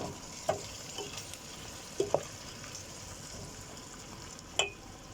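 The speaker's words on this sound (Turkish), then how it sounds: "1-2 dakika da nohutla" Rice and chickpeas are stirred in a pan with a soft, steady sizzle, with several sharp clinks and scrapes of the spoon against the pan scattered throughout.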